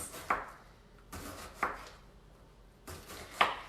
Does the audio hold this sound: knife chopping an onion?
yes